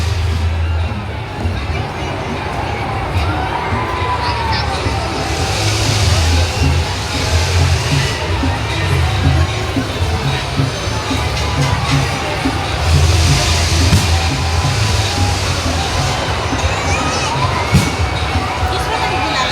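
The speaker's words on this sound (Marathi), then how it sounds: "खूप गर्दी पाय ठेवायला सुद्धा जागा नाही" A dense crowd at a village fair (yatra), so packed there is no room to step: a continuous, close hubbub of many voices, shouts and movement with no break.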